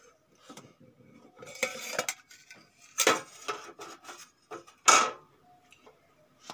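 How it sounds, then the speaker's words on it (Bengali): A steel tiffin box is opened in a kitchen after cooking an egg dish, giving a series of sharp metallic clinks and clatters, loudest in a few strong bursts, with no talk. "টিফিন বক্সটা খুলে নেব।"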